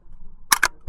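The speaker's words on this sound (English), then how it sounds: "Safety catch." An SA80 L85A1 rifle's safety catch is worked in a prone rested position on an outdoor range, giving two sharp close clicks in quick succession and then a third, louder mechanical snap over a faint background.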